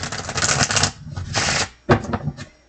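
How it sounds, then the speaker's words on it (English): Crisp riffling bursts of a deck of cards being shuffled, several quick rounds with short pauses between, close and fairly loud. "I'll just shuffle the deck one more time."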